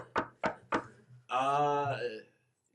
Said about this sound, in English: I go and knock on the door.